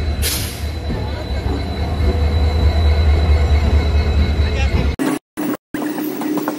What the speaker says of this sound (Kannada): ಕಡೆಕ್ಲ ಟ್ರೈನ್ ಬರ್ತಂಡು